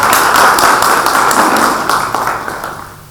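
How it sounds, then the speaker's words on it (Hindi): Brief audience applause at a free plastic surgery camp event, a burst of dense, close handclapping that fades slightly toward the end. "मैं पूरे मंच की ओर से, आप सब की ओर से चाहता हूँ एक बार ताली बजा करके भाई"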